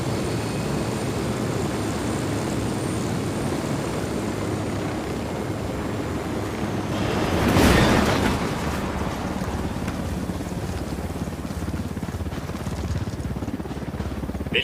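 A helicopter in the video game Ghost Recon Wildlands produces a steady rotor drone and rushing wind, swelling into a brief louder whoosh midway before settling back to the constant roar.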